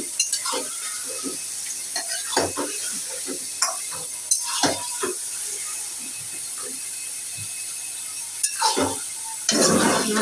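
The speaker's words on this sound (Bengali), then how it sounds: "এখানে মা মাংসটা বসাই দিতেছে, আর মশলাটা কষানো হয়েও গেছে।" Beef simmering in a pot of spiced masala, with a steady bubbling hiss and frequent close stirring clinks and scrapes from a utensil, plus a few louder knocks against the pot near the end.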